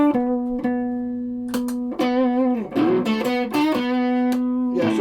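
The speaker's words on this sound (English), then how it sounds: "So I think again with distortion, these things will really kick out." Electric guitar with four pickups set to humbucking mode, played through distortion: sustained, thick overdriven chords and notes ring out loud and alone, with a few re-struck attacks and bends.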